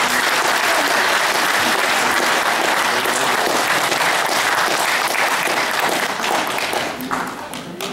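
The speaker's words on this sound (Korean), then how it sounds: "큰 박수로 맞이해주시기 바랍니다." A large crowd at a Korean political rally applauds steadily and loudly, a dense wash of clapping that holds strong before thinning slightly near the end.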